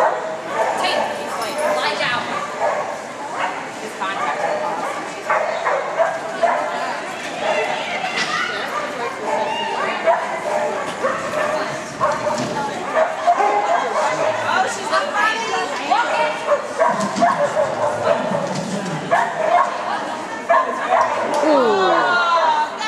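An excited dog barks, yips and whimpers almost continuously through a lively outdoor moment on a Sunday in San Marcos, with people chattering and cheering around it.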